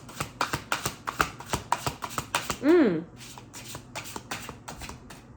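Tarot cards being shuffled by hand, a quick run of crisp riffling flicks and taps close up, with one brief whooshing swipe midway.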